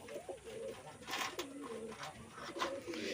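Red lotan pigeons coo softly in a loft, a few low, rolling calls heard close but faint, with quiet background rustle.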